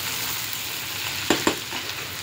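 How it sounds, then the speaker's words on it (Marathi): Onions frying in a pan for a Maharashtrian kurma bhaji, a low steady sizzle with a couple of sharp stirring scrapes near the middle, close and fairly quiet, no voices. "कांदा छान गुलाबी होईपर्यंत परतून घ्यायचा आहे"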